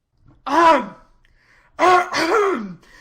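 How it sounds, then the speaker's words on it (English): Two loud, voiced throat sounds close up, a single harsh cough followed after a pause by a longer, drawn-out clearing of the throat. "When he enters, he coughs loudly, seeing the situation."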